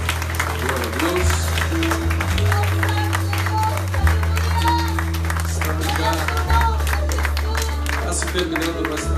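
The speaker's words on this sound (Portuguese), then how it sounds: "A igreja pode aplaudir ao Senhor." A church congregation applauds during a worship service, a steady wash of clapping that runs throughout under a low, sustained musical tone and a voice speaking over it.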